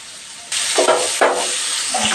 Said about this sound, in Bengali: মাছ ভেজে নেব মিডিয়াম হিটে।